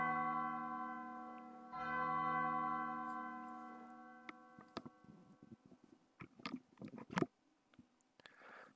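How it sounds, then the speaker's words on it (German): Bells ringing in the video game Undertale: sustained, resonant tolling tones hold for about four seconds and then fade into sparse, faint clicks and taps. "Glocken klingeln."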